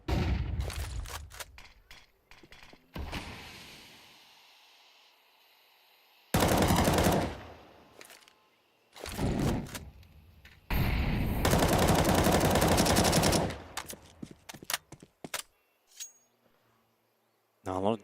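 Automatic rifle sprays in Counter-Strike 2 tear through a tournament match as loud, sustained bursts of rapid gunfire, several long volleys separated by short gaps, with game sounds and commentary-like noise between them.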